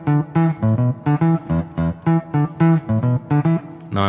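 Guitar plays a funky, choppy riff, clean and close, with a steady run of short, punchy stabbed notes and no talking.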